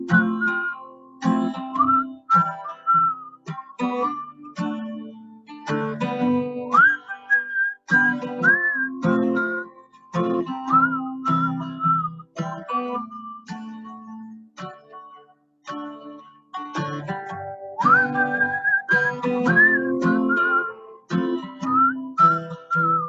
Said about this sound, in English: I'm going to whistle and see if we can create a melody.